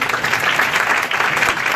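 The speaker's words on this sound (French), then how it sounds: "On peut l'applaudir." A room full of people claps steadily, a dense, even patter of applause close by with no pauses.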